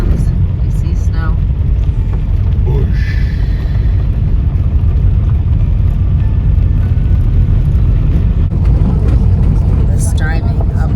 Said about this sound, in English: Driving up this mountainside on these rough gravel roads are making me have anxiety.